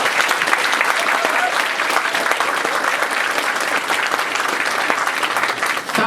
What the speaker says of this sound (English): can you help me to really appreciate this wonderful lady with a wonderful happy clap?